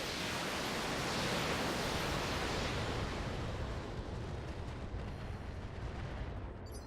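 Missile fire and explosions in the BattleTech game, a dense, loud roar of blasts and rumbling that fills the whole stretch without pause, with no voices over it.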